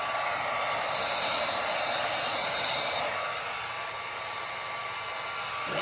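A heat gun blows a steady, loud rush of hot air over resin with heat-activated color-changing pigment, a continuous broadband hiss that holds for about six seconds and dips only slightly near the end.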